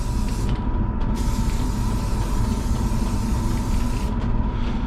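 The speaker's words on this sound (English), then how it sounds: "I just wanted to add a little bit of extra spray paint on this" A spray paint can hisses steadily onto an aquatint intaglio printmaking plate, a close, continuous spray lasting the whole stretch with only brief dips in intensity.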